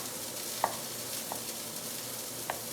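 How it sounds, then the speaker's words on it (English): Strawberries sautéing in a pan with pork drippings give a steady, quiet sizzle, with a few light utensil taps on the pan. "Now you still hear that sizzle."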